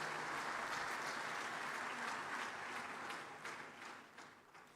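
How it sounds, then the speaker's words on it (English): An audience at a bank's annual meetings gives a round of applause, a broad, sustained clapping from a large hall that fades gradually over the last second or two. "That's your first round of applause for the day."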